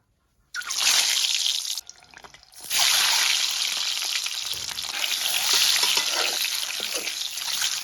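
Eggs drop into hot oil left over from frying potato and cauliflower, bursting into a loud, dense sizzle that dips briefly and then roars back and stays steady.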